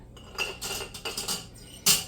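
A metal jar lifter makes light clinks and knocks against hot Ball glass canning jars as they are lifted from a pot of boiling water, giving several short, close taps over about two seconds.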